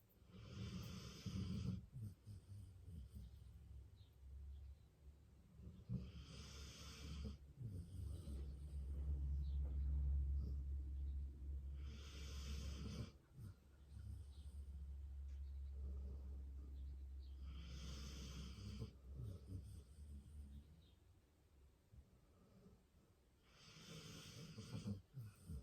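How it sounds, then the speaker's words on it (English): A pet snores quietly and slowly, with a deep rumbling breath about every five seconds and nothing else heard. "All I can hear is Sprocket snoring"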